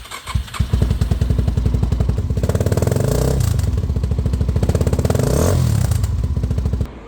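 A Suzuki DR-Z motorcycle engine fires up after a few thumping attempts, then settles into a steady, loud single-cylinder chug that rises and falls slightly as it keeps running nearby.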